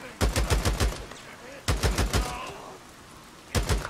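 Automatic gunfire in the zombie-survival game Days Gone, loud and close: three bursts of rapid shots, each about a second long, separated by short pauses.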